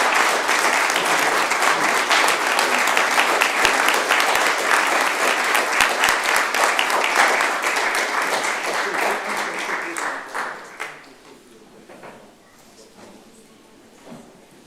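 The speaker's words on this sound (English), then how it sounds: "please give Aaron, Omari, and Mike another round of applause" Audience at a mayor's press conference applauding: a dense, sustained burst of many hands clapping that holds loud for about ten seconds, then quickly thins out to a few scattered claps and room noise.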